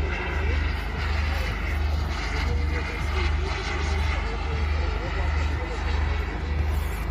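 An Avro Lancaster propeller bomber flies over an airshow at Elvington, UK, its loud, steady droning engines pulsing gently throughout.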